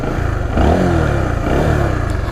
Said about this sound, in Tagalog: Kapag ni-rev ko to, makikita nyo kung ilang RPM yung nahihit ko.